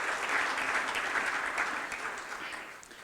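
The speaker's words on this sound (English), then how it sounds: "I'd like a bigger round of applause" An awards ceremony audience claps steadily at the Canadian Printing Awards, a dense, sustained wash of hands that holds loud throughout and eases off slightly near the end, with no talking over it.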